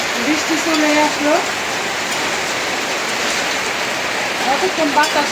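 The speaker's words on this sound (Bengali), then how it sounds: "বৃষ্টি চলে আসলো" Rain pours steadily outdoors as a hiss of drops on surfaces, with soft speech and faint kitchen sounds at the start and end.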